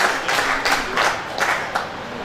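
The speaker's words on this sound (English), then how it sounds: "Clap for Jesus" An audience claps in steady rhythmic bursts, about three beats per second, at an International Day of Persons with Disabilities event in 2024. The crowd's clapping fills the room at moderate volume with no speech over it.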